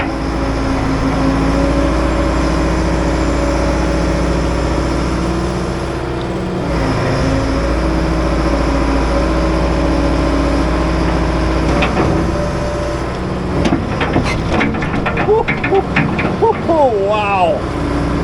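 Heavy excavator engine idling and running with a steady low drone, joined near the end by hydraulic whines and clanks as the machine moves; a voice is heard over it.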